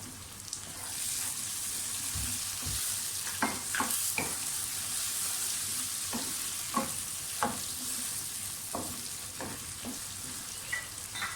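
Tomatoes fry in a pan for urad dal with a soft, continuous sizzle, punctuated by quiet scraping and clinking as a spoon stirs them, fairly faint and close, with no voices.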